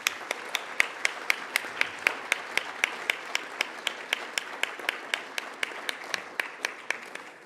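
Sparse applause for award winners at an education week ceremony: a small number of distinct, evenly spaced claps ring out one after another in a steady rhythm across the stretch, fairly quiet and without voices.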